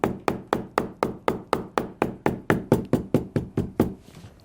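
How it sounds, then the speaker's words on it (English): A hammer strikes leather lining on a custom cowboy boot being handmade, about fourteen sharp, even knocks in quick succession, close and loud, then stops. "So we'll go ahead and hammer it."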